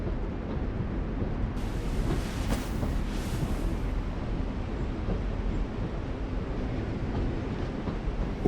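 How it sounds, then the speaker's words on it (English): Steady rumble of a train in The Walking Dead: The Final Season video game, a continuous low rolling drone with no talk, holding level throughout. "Why the train? You always pick the train."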